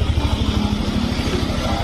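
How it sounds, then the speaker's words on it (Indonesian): A Yamaha Mio M3 scooter engine runs steadily at idle, close by, with a rapid even low putter and no talk over it. "Mesin menyala."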